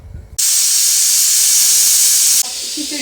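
A pressure cooker's loud, forceful hiss of steam bursts out suddenly and holds steady for about two seconds, then cuts off into quieter kitchen sounds.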